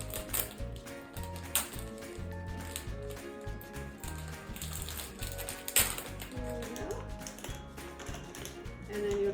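An elderberry syrup kit package being opened, a series of close crinkly rustles, clicks and tearing-like rattles in an uneven rhythm, moderately loud and with no talking.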